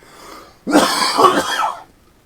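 A single harsh cough, close and loud, lasting about a second, with quiet before and after.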